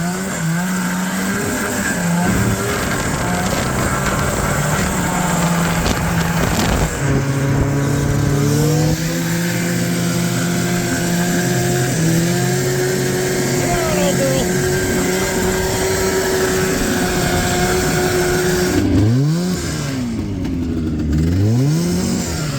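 An old Ski-Doo Enticer snowmobile with a badly worn motor runs nearby, its engine note rising and falling through repeated revs and sharp swoops, while a voice talks over it at times.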